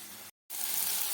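A spiced masala with tomato is sautéed in hot oil in a home kitchen. It gives a steady, bright sizzling hiss that cuts out briefly, then comes back stronger and keeps going.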